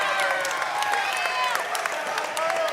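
A fight crowd applauds and cheers loudly and steadily at a catchweight match after a split-decision win, with whistles and shouts threaded through the dense clapping.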